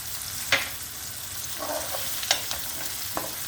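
Onions and four garlic cloves sauté in a pan for a beet dish, sizzling steadily up close, with a few sharp spoon clacks and scrapes from stirring.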